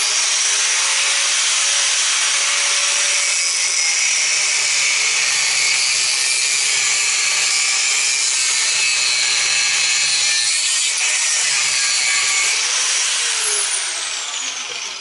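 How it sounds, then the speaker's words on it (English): A saw grinds steadily through the copper windings of a scrapped electric motor, a loud, continuous harsh cutting noise that holds for the whole stretch with no talk over it. "so just put a new blade on before this so I can cut the copper"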